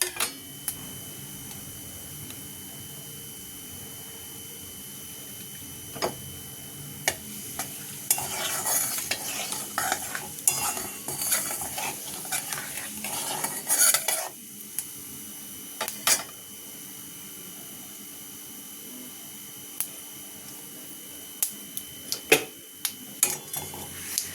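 Cumin seeds tempering in hot oil for a paneer curry, with a steady low sizzle broken by a busy stretch of stirring and clinking of a spoon against the pot, then quieter frying with occasional scrapes.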